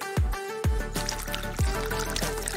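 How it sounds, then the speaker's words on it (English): A mixture of melted candy and heavy cream poured into tilted glasses, a continuous close trickle and pour broken by a few low knocks as the stream lands and shifts. "Once it's mixed, pour it into tilted glasses."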